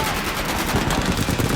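Rapid machine-gun fire from the video game Commando Ninja 2, a dense, continuous rattle of shots running loud and close with no pauses for the whole burst.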